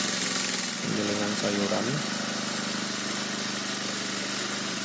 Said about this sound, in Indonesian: ini adalah proses penggilingan